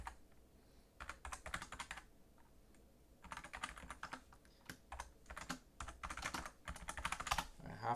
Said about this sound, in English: I'm going to type this wrong